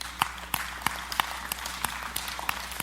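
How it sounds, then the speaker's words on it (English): A church audience applauds during a sermon, giving a thin, sparse patter of claps at a steady rhythm, fairly quiet and heard from a distance. "I know you're clapping"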